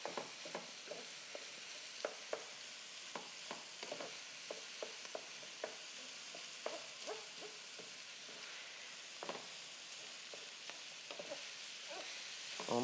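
Ground meat for stuffing frying in a pan, a soft continuous sizzle broken by repeated scraping clicks of a utensil stirring, quiet and close with no talking.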